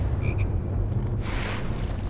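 Chocolate frog croaking in the Harry Potter and the Chamber of Secrets PS2 video game, a couple of short, close croaks early on over a dense, steady game background hum.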